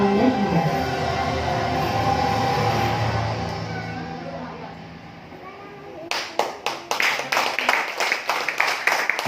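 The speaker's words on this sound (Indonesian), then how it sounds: "beri tepuk tangan buat Anda semua" Speech opens the moment before a seminar audience at an Islamic business event breaks into applause, a loud burst of many hands clapping in a steady patter that carries on to the end.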